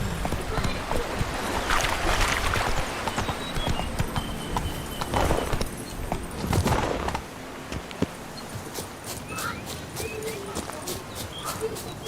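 Hooves of Roach, the horse in The Witcher 3, clop steadily and close up, with busy game sounds and talking over the first half before the rhythmic hoofbeats thin out.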